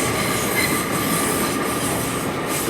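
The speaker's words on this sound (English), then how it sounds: "Also departing out TfL Rail service to Hayes and Harlington" Trains departing London Paddington station, a steady loud rumble of rolling wheels with faint squeals and rhythmic clatter, continuous throughout and close by.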